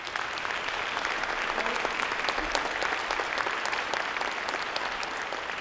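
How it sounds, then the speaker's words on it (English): A crowd applauds steadily, dense clapping sustained evenly throughout without breaks or voices. "why don't we all give a nice round of applause?"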